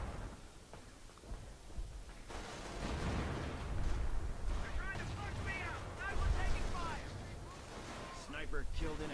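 Heavy 105 mm howitzer blasts pound an 88 gun position in a wartime strategy game, booming beneath a rumble of battle noise while a commentator talks excitedly over the action.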